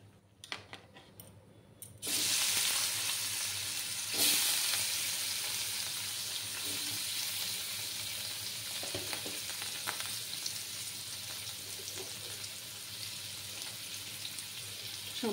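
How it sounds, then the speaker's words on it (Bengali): Paneer cubes hit hot oil with turmeric in a pan, bursting into a loud, steady sizzle that holds throughout with faint stirring scrapes, close by and without talk. "পনিরগুলো ভেজে নেব"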